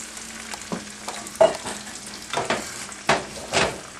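Vegetables sauté gently in butter and olive oil, a soft low sizzle punctuated by several distinct scrapes and stirs of the spoon in the pan, close and without voices.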